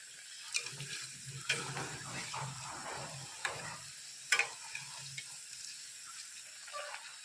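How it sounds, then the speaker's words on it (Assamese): Singara deep-fry in hot oil over a low flame, a quiet bubbling sizzle with occasional clicks and taps of a utensil against the pan, no talking. "তেলখিনি ভালদৰে গৰম হোৱাৰ পিছত চিঙৰাখিনি ভাজি ল'ম।"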